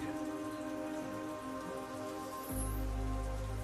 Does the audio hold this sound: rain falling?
yes